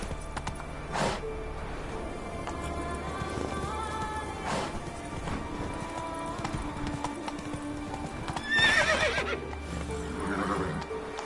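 Horse hooves clip-clop at a gallop through a Witcher 3 game scene, with loud whinnying neighs breaking out near the end over steady ambient game sound.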